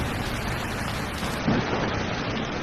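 Rain falls at night in a dark forest as a soft, constant hiss of drops, fairly quiet and unbroken, with no voices.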